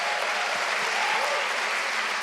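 Steady applause from an audience at a faith and mental health panel for a pastor, dense continuous clapping from many hands in a room, even in loudness throughout.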